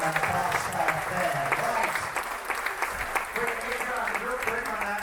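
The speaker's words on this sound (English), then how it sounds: "a big round of applause for Linda" Audience applause aboard the Carnival Ecstasy cruise ship, a sustained burst of dense clapping from a crowd, heard under a voice speaking over it.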